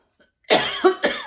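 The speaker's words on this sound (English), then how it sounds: "I got some allergy cough going on." One person coughing from allergies, close and loud: a sharp cough followed by two quicker hacking bursts in about a second, after a moment of silence.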